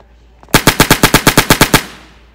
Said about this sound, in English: This is the Mac 10.